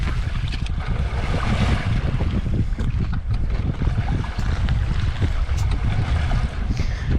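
A Tracker Super Guide 16 boat with a deep-V hull pounds through rough water on Santee Cooper, with steady loud wind and water rush throughout and no talk.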